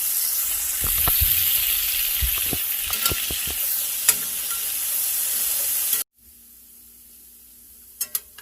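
Potatoes and mixed vegetables fry in a pan with a loud, steady sizzle and hiss, broken by a few stirring scrapes and clicks, before the sizzle cuts off abruptly and only faint clatter remains.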